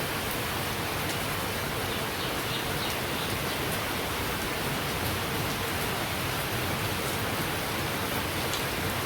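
Rain falls steadily outside, making a dense, even hiss of drops on surfaces that continues unchanged for the whole stretch.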